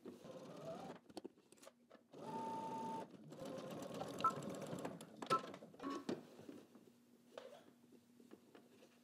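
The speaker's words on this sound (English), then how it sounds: "I'm going to top stitch across the top, making sure that I catch that fold underneath right here" A home sewing machine top stitches across the top of a pair of shorts through a folded edge, running in several bursts of steady whirring with brief pauses and a clicking stop between runs.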